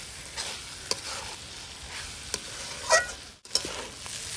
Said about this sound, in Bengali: ভালো করে চালটাকে ভেজে নিয়েছি